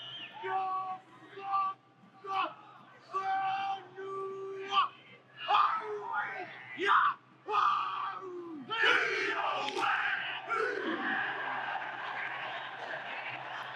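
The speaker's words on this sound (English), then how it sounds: "I just looked up New Zealand haka." The New Zealand rugby team performs the haka at the 2011 World Cup: a group of men chant in rhythmic shouted bursts, with rising yells and stamping. The surges build to a sustained crowd roar, heard slightly removed, as from a broadcast.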